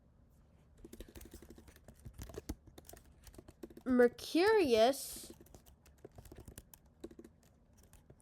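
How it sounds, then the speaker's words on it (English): Quick, uneven keyboard typing clicks run through the clip, while a person speaks briefly in the middle. "my typing's terrible today"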